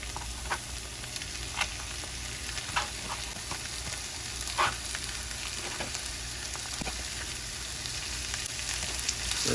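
A pound of ground beef fries in a pan for stuffed peppers, giving a steady, even sizzle with faint crackles and occasional stirring clicks throughout.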